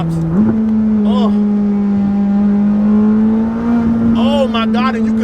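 A McLaren with a top-mount exhaust accelerates from inside the cabin, its steady engine drone rising slightly and punctuated by a few short crackling exhaust pops.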